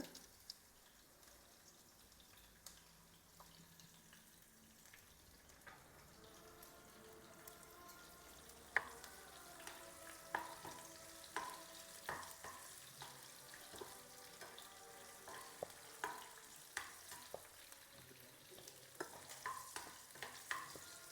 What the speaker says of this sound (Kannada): ಸ್ವಲ್ಪ ಹಸಿಮೆಣಸಿನ್ಕಾಯಿ ಫ್ರೈ ಆಗಲಿ